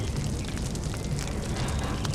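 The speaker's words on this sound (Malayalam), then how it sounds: "ചിങ്കി, വേഗം ഈ കത്തുന്ന തീയിലേക്ക് നടന്നു പോ" A fire burns with a continuous low roar and scattered crackles, loud and close, with no voices.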